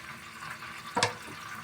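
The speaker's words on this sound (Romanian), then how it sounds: "Eu acum o să pun puțină apă peste el" Water pours steadily into a pot, a soft continuous stream with a brief brighter splash near the end, quiet and close.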